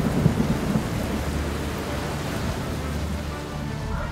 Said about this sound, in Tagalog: Hanggang sa biglang humangin no ng malakas kasama ang ulan.